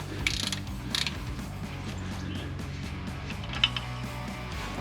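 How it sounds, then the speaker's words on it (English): Quiet ratcheting clicks from a 1/2-inch wrench undoing the plug on a rear differential housing, a series of small mechanical clicks and metallic taps, close up with no speech. "Now we're gonna take this plug out of the housing, and we can just use a 1/2-inch wrench to just undo this plug."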